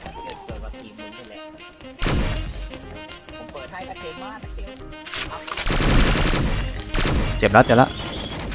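Witch gun firing in the shooter game XSHOT, with bursts of rapid gunfire and sharp shattering impacts that grow denser toward the end, while someone talks throughout.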